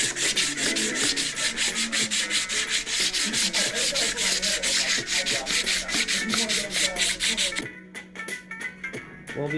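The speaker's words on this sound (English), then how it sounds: "sandpaper really gets all the little pits and little leftover gasket, dirt, all that stuff off really well" Sandpaper in 400 to 600 grit scrubs leftover gasket residue and dirt off a Dodge Magnum 5.2 engine block, a steady rapid back-and-forth rasping that runs loud and close for most of the stretch, then thins to lighter strokes near the end.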